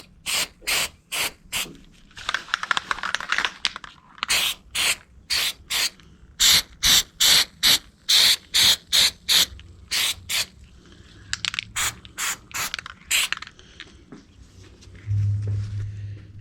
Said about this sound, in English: let's go ahead and spray some of this rubberization onto these parts